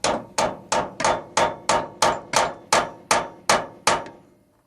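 A hammer strikes metal eleven times in a steady, even rhythm, tapping a door pin into place on a 1988 Chevy, each sharp ringing knock close by, the last one fading out.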